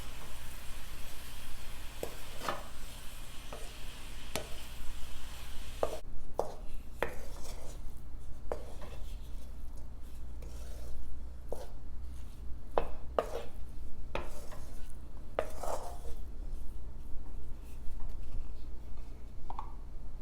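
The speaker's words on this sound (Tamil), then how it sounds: "இப்போ சாதம் உடையாமல் நல்லா கிளறி விட்டுறலாம்" Cooked fenugreek-leaf rice is stirred in a pan, giving scattered scrapes and light metallic taps at irregular intervals over a quiet, steady background hum.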